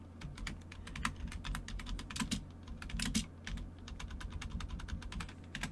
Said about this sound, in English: I was typing before it would even let me.